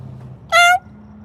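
A single short meow from a gray cat, clear and fairly close, rising out of quiet background hum.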